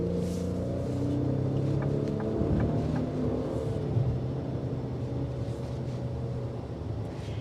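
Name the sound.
2025 Ford Explorer ST Line 4-cylinder turbo engine accelerating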